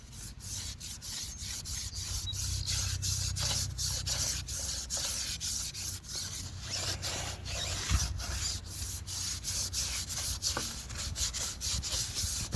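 A brush lightly scrubbing a car part, a steady, close rubbing hiss with rhythmic back-and-forth strokes running continuously without speech.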